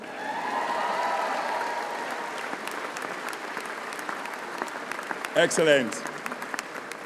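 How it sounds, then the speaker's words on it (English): Graduation ceremony audience applauding a horn section, steady clapping throughout, with a voice briefly speaking over it near the end. "Give them a round of applause."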